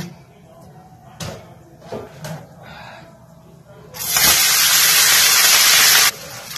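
Rice drops into hot oil and ghee in a pan and bursts into a loud, steady sizzle after a few clinks and rustles of preparation, with a voice talking nearby.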